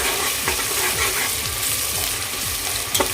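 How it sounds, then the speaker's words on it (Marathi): Chopped tomatoes for green chicken biryani sautéing in a pan, a constant loud sizzle with repeated rhythmic spatula scrapes stirring through, close by and alone. "एक दोन मिनटं हे परतून घेऊया टा टोमॅटो सॉफ्ट होईपर्यंत"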